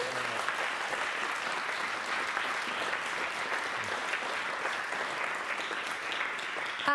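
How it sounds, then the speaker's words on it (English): An academic audience at a research-day conference applauds a professor after a paper presentation, a steady, dense wash of many hands clapping that holds evenly for several seconds at moderate distance. "So applause to Professor Jones again."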